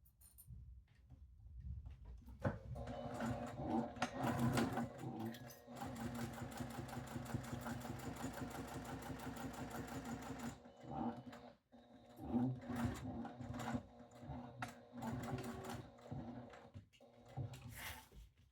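A sewing machine stitches a fabric pouch in a long continuous run of rapid, even mechanical whirring, with shorter bursts of stitching before and after and brief pauses between them.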